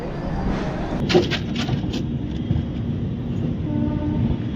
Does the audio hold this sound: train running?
yes